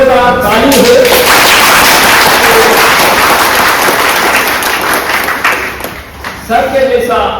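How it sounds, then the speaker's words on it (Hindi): An audience at a college event claps loudly for an honoured guest, a dense sustained burst of applause that lasts several seconds and then fades, with a voice speaking over the room at the start and end. "तो इस महान व्यक्ति के लिए हम एक बार चाहेंगे कि जोरदार ताली हो।"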